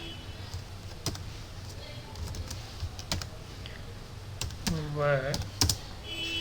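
Computer keyboard keys clicking in quick, uneven bursts while code is typed, moderately close, with a brief spoken word partway through.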